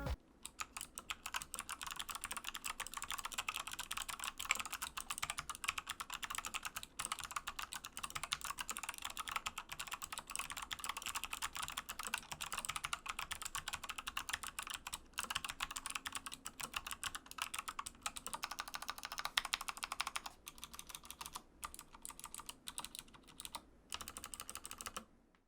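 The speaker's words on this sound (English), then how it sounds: "a quick sound test of the Kale Box White switches in my Hexgears" Rapid, continuous clicking of a Hexgears Impulse mechanical keyboard with Kailh Box White switches, crisp keystrokes in a fast steady stream with brief pauses near the end, close and alone.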